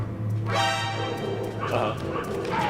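A dog in the Metal Gear Solid video game barks and yips in a short burst over a steady game soundtrack hum, with brief yelps rising and fading.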